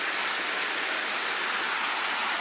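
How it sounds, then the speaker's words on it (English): Cloudy, mineral-laden hot spring water at Soufriere, St. Lucia, near Diamond Falls, rushes past in a steady, close, hissing wash with no other sounds. "Some running water right in front of us."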